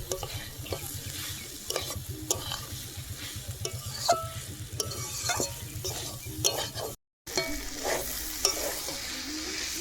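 Vegetable curry with ground peanut paste being sautéed in a pan, the spoon scraping in a steady rhythm over a close, continuous sizzle, with a brief dropout partway through and no talking.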